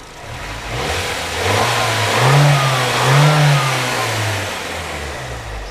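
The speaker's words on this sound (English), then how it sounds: "A couple of revs." A 1999 Nissan Silvia S15 Spec R engine idles close by, then revs up twice in quick succession, the pitch rising and falling each time before settling back.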